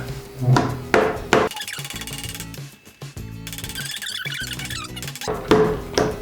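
A nail being hammered as a life-hack test, a few loud close metallic blows at the start and end with tonal ringing and clatter in between.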